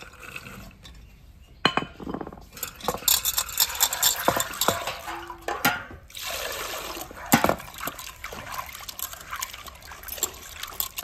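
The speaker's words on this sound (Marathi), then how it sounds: "आपण आता हरभरे स्वच्छ धुवून घेणार आहे" Chickpeas are rinsed clean in a pot of water, with sloshing, stirring swishes and trickling pours alongside occasional sharp knocks of the vessel, fairly close and quiet.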